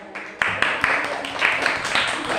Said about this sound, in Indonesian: Beri tepuk tangan kelompok 3.